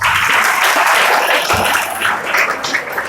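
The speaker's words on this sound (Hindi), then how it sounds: "जोरदार तालियां मैम के लिए।" An audience bursts into vigorous, dense applause, a loud, close wash of many hands clapping that holds steady for about three seconds without a pause.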